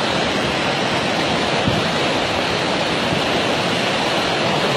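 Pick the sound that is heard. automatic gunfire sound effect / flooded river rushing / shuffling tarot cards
flooded river rushing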